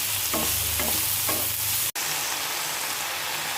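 Washed greens being stirred into eggplant frying in a pan, a steady broadband sizzle with stirring scrapes, briefly cut off for an instant midway, then continuing more softly.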